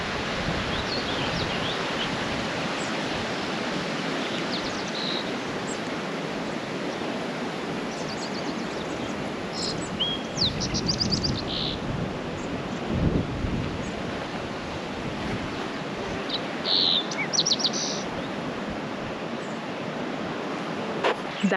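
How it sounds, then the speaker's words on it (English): A creek at a Great Sand Dunes campsite rushes as a constant broadband wash, with a few faint bird chirps breaking through now and then and no one speaking. "I want you to hear how quiet it is, and just the sounds of nature, the sounds of the creek, the sounds of the birds"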